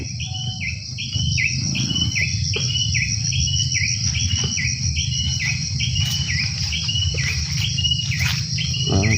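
Birds sing on a goat farm in a repeated series of bright, stepped whistling phrases over a steady buzz of insects and low rumble, continuous and fairly close.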